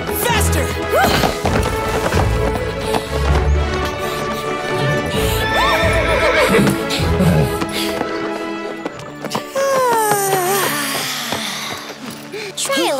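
Hooves clatter in a fast gallop amid a dense, busy mix of music and effects, with a horse whinnying briefly near the end.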